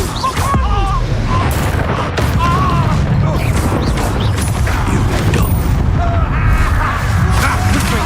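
Spell blasts and explosions from Hogwarts Legacy combat boom and crash repeatedly, dense and loud, with shouted voices and game sound layered over them.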